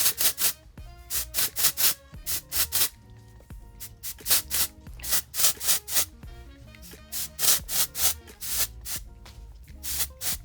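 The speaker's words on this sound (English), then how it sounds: "I'm gonna take my spray, get from the root first." Rapid bursts of hairspray hiss in quick, uneven pulses, close and loud, with short pauses between clusters of sprays.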